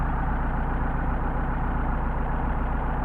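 A Mercedes 190SL with Solex carburetors idles steadily at about 700 rpm on a cold 29°F day, a close, even low rumble with a regular pulsing beat and no voices.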